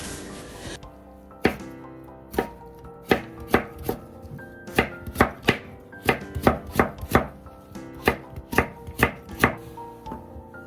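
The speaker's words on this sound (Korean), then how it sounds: "이 생채는 이렇게 칼로 직접 썰어가지고 해야 맛있더라고요." Radish cut into thin strips for musaengchae with a kitchen knife on a cutting board: a sharp initial chop, then a rapid, fairly regular series of crisp, close knife strikes.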